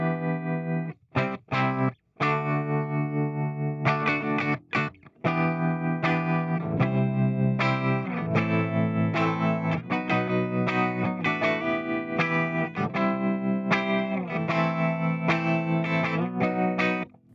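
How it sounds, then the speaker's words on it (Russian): Electric guitar played through a Tank-G multi-effects processor with a tremolo effect, loud, chopped chords and notes pulsing steadily, distorted and chorused, with brief gaps early on, no voices. "И здесь у нас должно быть тремоло."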